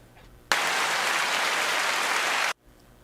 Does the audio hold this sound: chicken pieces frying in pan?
no